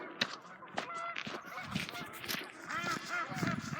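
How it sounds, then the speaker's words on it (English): Several domestic ducks honk repeatedly in irregular bursts, close and fairly loud, calls overlapping one another outdoors at a shady spot. "Let's go say hi to the ducks."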